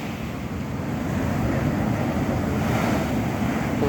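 Sea waves wash steadily onto a beach where people are fishing beside a bonfire, a loud continuous surf roar mixed with wind buffeting the microphone, with no talk.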